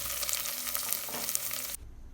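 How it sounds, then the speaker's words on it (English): An onion and pepper paste sizzles in a pan while it is stirred, a close, hissing fry with light scraping, and it cuts off abruptly near the end. "Then I'm just going to mix everything well to combine before I introduce my fish."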